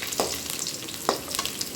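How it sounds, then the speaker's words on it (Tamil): About ten crushed native garlic cloves fry in coconut oil for a bitter gourd stir-fry, giving a steady close sizzle broken by a couple of sharp stirring scrapes. "அதுக்கப்புறம் ஒரு நாட்டு பூண்டு ஒரு 10 பூண்டு தட்டி வச்சுருக்கோம். அதையும் இந்த எண்ணெயில் போட்டுருவோம்."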